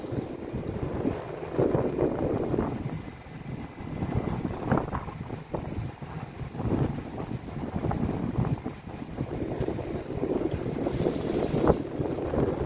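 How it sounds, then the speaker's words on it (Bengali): Waves break against the bow of a ship crossing the open Indian Ocean, a churning, surging wash with rolling swells under steady wind buffeting the microphone, no voices. "এখানে ঢেউ ভাঙতেছে, জাহাজের সামনের অংশে"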